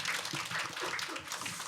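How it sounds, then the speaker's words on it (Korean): Audience applause at a talk concert on youth drug addiction prevention, a short burst of dense, steady clapping filling a hall. "여러분 박수 보내주세요."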